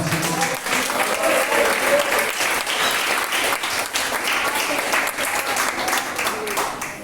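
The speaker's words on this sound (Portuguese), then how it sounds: "Exalte Jesus com palmas, Senhor." A church congregation at an evangelistic service claps in praise, a loud continuous wash of many hands sustained for several seconds, with voices mixed in beneath the clapping.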